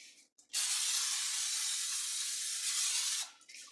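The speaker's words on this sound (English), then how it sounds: "We're going to spray it with some olive oil." An aerosol olive oil cooking spray hisses into a crock pot in one continuous burst for nearly three seconds, close and fairly quiet, with a short puff just before.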